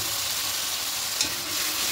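Ground coriander, cumin, chilli and turmeric with water frying for duck egg curry, a loud, dense steady sizzle with one brief scrape of a stirring spoon.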